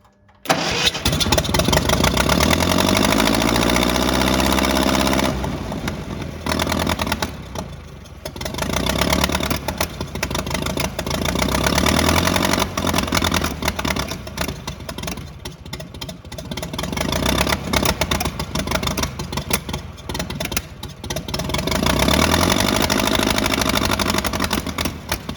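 A Ferguson TE-20 tractor engine fires up after a restart attempt and runs loudly, its throttle rising and falling in several surges over a rough, steady idle.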